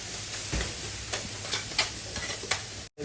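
Rice fries in a pan while being stirred, with a soft sizzle under a series of distinct scraping and tapping strokes at an uneven pace. A brief dropout comes near the end.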